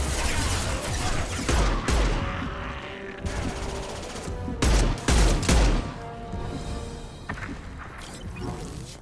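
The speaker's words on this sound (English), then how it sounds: "Taking heavy fire!" Heavy gunfire erupts in Mass Effect 2 combat, with loud bursts of rapid shots and booming impacts clustered in volleys, punctuated by sharp crashes and brief lulls between the salvos.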